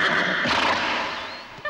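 A horse neighs loudly and close by, a strained whinny that rises and then fades over about a second, ending with a brief thump.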